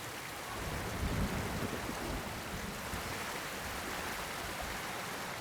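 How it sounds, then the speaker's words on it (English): A waterfall in the Ghost of Tsushima video game roars as a steady, even wash of rushing water, continuous and fairly soft throughout, with no voices. "Under the waterfall."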